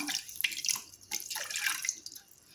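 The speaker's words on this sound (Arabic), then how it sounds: "اول حاجه غندير السكر وغنزيد عليه الماء" Water is poured over sugar for a meringue, giving a soft, faint trickle and splash with small drips, close and alone.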